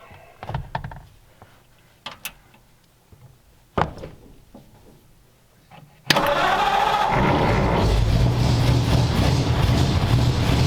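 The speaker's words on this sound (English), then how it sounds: "I'm not exactly sure what happens when you start the car, but we're about to find out." After some clicks, knocks and handling noises, the engine of a 1932 Ford barn-find car abruptly fires up and settles into a loud, steady idle close by.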